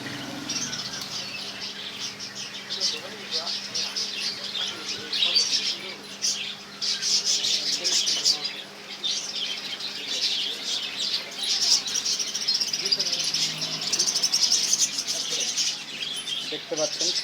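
Pigeons and their chicks in a cage chirp, coo and flutter continuously at close range, with soft wing flaps and scattered calls throughout.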